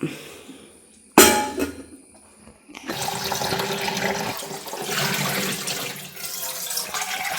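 Tap water runs steadily into a container for making tea, a continuous broadband rush that starts after a brief clatter and a pause and keeps going to the end, close by.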